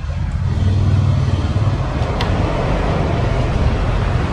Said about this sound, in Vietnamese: tại vì là ở ngoài đường lộ á, cho nên xe hơi chạy có tiếng ồn xíu